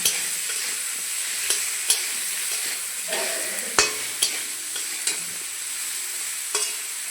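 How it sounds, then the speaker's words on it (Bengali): Pointed gourd pieces fry in a pan with turmeric and salt, giving a steady, close hiss broken by sharp scrapes and clicks of a spatula stirring every second or so. "আর দিয়ে দিচ্ছি একটু লবণ ভালো করে ভেজে নেব"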